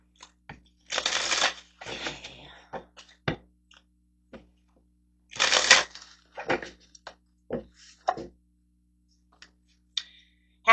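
Tarot cards being shuffled, with bursts of riffling and soft card slaps spaced by quiet pauses, close and fairly faint with no speech.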